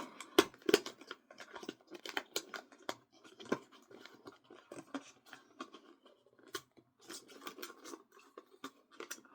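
A sticker is picked at and peeled off a package in close, irregular bursts of crackly scratching and tearing, with brief quiet gaps between the pulls.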